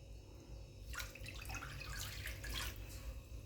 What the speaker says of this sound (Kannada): ಈಗ ಪ್ಯಾನ್ಗೆ ಈ ಬಟ್ಲೆ 2 ಬಟ್ಲಾಗಷ್ಟೇ ನೀರನ್ನು ಹಾಕ್ತಾಯಿದ್ದೀನಿ